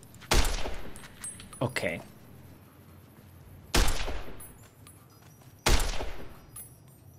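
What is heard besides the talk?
distant shotgun fire in video game Fallout New Vegas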